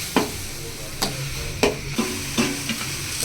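Chicken gravy ingredients sautéing and being stirred in a pan, with a steady sizzle and several sharp spoon scrapes and clanks at irregular intervals.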